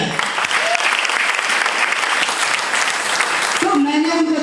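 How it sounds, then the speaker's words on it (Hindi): Loud, dense clapping from a large crowd at a business gathering, sustained throughout, with a voice beginning to speak over it near the end. "उनके लिए जोरदार ताली हो जाए"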